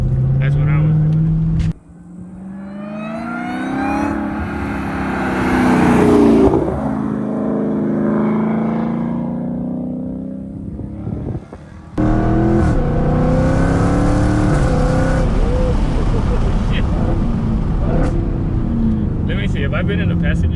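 A Dodge Hellcat accelerating hard from a launch: the supercharged engine roars with rising revs through a long pull, dips briefly, then bursts back to a loud, sustained full-throttle howl.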